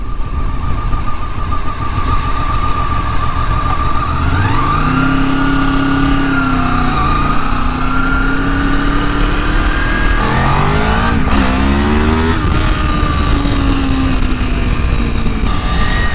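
A motorcycle rides along a road, its engine droning steadily up close with rising and falling pitch as it accelerates and shifts through gears, loud and continuous with no talk.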